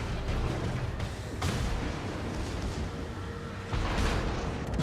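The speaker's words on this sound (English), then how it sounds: "Oh look, your rear gun finally gets to shoot." Heavy naval gunfire from the battleship Iowa in World of Warships combat, deep rumbling booms rolling over a constant loud battle din, with sharper reports at intervals.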